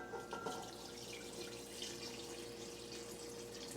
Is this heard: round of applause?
no